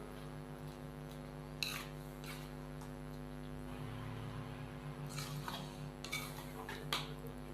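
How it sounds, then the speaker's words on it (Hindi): Chicken shashlik and fried vegetables are stirred together in a pan, with a few soft scrapes and clinks of a utensil over a quiet, steady kitchen background. "साथ ही हम इसके अंदर फ्राई की हुई सब्जियां भी शामिल करेंगे। अच्छे से हम इसको मिक्स करेंगे"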